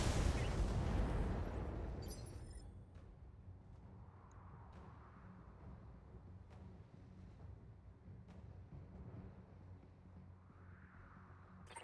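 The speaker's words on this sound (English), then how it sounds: "Firing all weapons." Weapons fire in a Commander's Edition mod campaign game: a loud, dense burst of blasts for the first two seconds, then a quieter rumbling battle bed with scattered sharp cracks and thuds.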